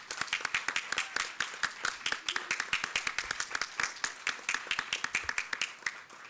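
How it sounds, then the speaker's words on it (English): An audience at a university startup pitch competition applauds the teams, a small crowd producing sharp, distinct, rapid claps with an uneven rhythm, fairly close and sustained. "can we do a round of applause for all of the teams?"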